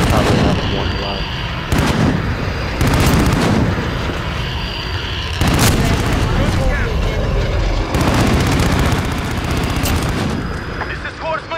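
Heavy gunfire and booming blasts in a combat video game, coming in loud repeated bursts over roughly eleven seconds, with a voice talking over parts of it.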